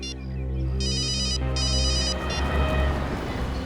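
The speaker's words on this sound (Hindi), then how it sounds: "मैं जरा दया को फोन करता हूँ" A telephone rings in a repeating electronic ringtone pattern, two bursts of ringing over a steady background music bed, with no talk, as a call is placed during a crime drama scene.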